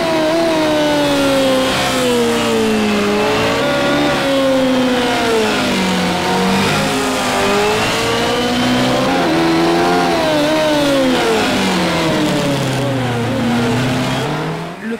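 Racing car engine in Project CARS 2 on the Monaco street circuit, loud and continuous, revving up and down through gear changes with rising and falling pitch as the car lapses through corners, with no talking.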